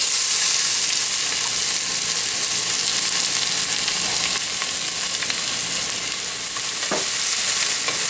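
Chopped onion sizzles in olive oil inside a heated pot, a dense close frying hiss with light stirring scrapes and a brief clank near the end, no talking.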